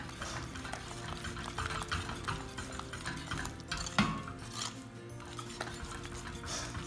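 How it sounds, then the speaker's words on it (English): A utensil stirs butter and vanilla into a meringue tart filling in a bowl, giving soft repeated scraping and rubbing strokes with occasional light clinks, fairly quiet and close. "all we have to do is stir this up, incorporate the butter and the vanilla"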